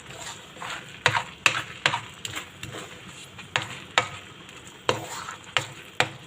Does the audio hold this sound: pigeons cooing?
no